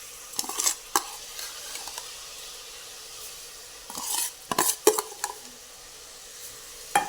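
Washed rice being stirred with masala in a pot over a raised flame for masale bhat, with a soft background sizzle under several sharp scrapes and clinks of a spoon against the pot, clustered in short bursts.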